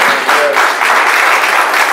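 An audience at a ward candidate forum held in a church hall breaks into steady, loud applause that fills the room throughout with a dense wash of clapping.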